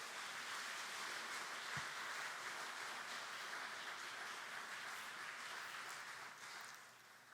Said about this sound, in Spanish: Denle una ofrenda de palmas a Cristo en esta mañana.